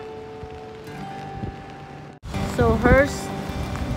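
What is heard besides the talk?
rain falling on umbrella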